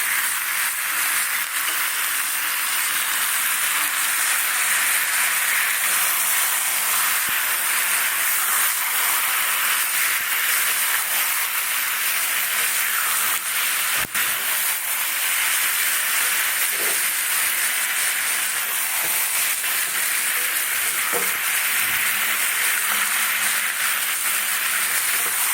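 Ground spice paste and new potatoes fry together in a pan for a yogurt and spring onion dum dish, giving off a steady, continuous sizzling hiss that holds throughout without a break.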